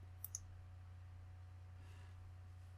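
A computer mouse clicked twice in quick succession, two faint, sharp ticks near the start, followed by quiet room hum with no speech.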